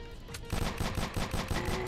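Rapid bursts of automatic gunfire from the video game shooter Storm Area 51, starting after a quieter moment and continuing as a dense, loud, regular string of shots with no voices.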